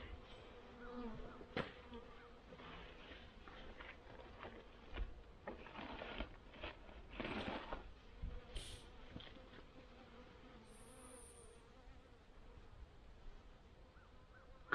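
Honey bees buzz at a winter hive in Pennsylvania, a faint, steady drone of insects near an opened box with scattered handling noises and brief knocks.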